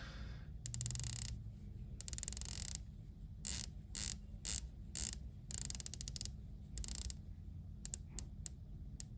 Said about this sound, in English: one of my favorite features on these new Superoceans is this bezel action